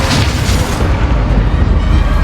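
A Bombard spell explodes in a Hogwarts Legacy dueling class, a loud, sustained, booming blast that fills the whole moment with deep rumble and crackling debris.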